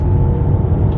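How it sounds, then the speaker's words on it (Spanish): Jeep Avenger The North Face 4xe 2025 with its three-cylinder turbo engine at full throttle, a steady loud low drone heard from inside the car, moderate rather than harsh. "automáticamente sí sentimos ese ruido del motor, que tampoco es demasiado exagerado, pero sí notamos el ruido de ese 3 cilindros turbo"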